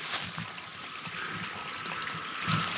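Water trickling steadily inside an old collapsed mine in woodland, a continuous hissy dribble that stays close and even throughout.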